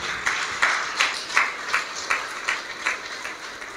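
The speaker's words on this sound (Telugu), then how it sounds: "అందరం చప్పట్లు కొట్టి దేవుని స్తుతిద్దామా?" A church congregation at a Sunday service claps hands together in praise of God, producing a steady rhythm of about ten evenly spaced claps, moderately loud and without talk.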